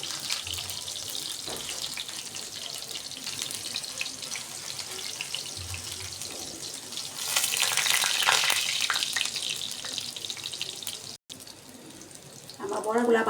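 Shrimp and lentil fritters fry in oil with a steady, close hiss that swells louder partway through, briefly breaks, then carries on with a voice speaking at the end.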